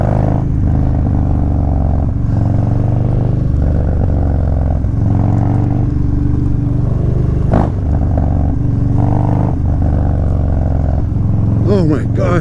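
Motorcycle pulling hard in second gear on its first ride of the season, with an adjusted clutch and a loose fender, engine roaring loud and close with steady revving for several seconds and a brief clatter near the end.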